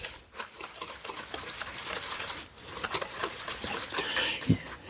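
Melted butter being whisked into graham cracker crumbs and sugar in a bowl, quick irregular scraping and gritty stirring strokes up close, with brief pauses between bursts.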